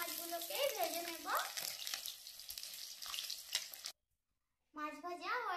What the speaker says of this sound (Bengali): এখন আমি মাছগুলো ভেজে নেব। তেল গরম হয়ে গেছে